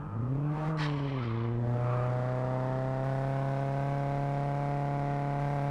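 Engine of a vehicle in a zombie survival video game, revving up then settling into a steady, loud droning hum as it drives along, with no talk.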